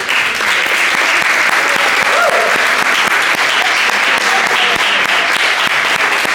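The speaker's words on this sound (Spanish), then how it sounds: "Un aplauso para ti." At a panel forum on contemporary dance in Sonora, an audience applauds the moderator with loud, sustained clapping that holds steady throughout.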